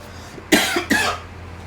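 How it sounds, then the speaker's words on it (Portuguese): Two short, sharp coughs close by, one after the other, each a broadband burst with a brief tail, against a quiet room with a low steady hum. "Tossiu"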